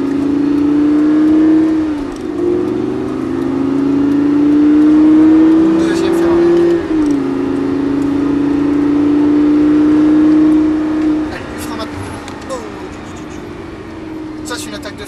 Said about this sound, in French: On accélère en redressant et on accélère légèrement tout du long ici pour tasser l'arrière de l'auto.